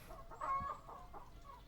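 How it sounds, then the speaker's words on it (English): Chickens in the video game Horizon Zero Dawn Remastered give a few short, quiet clucks against a faint background, with no talk. "Go away, chickens."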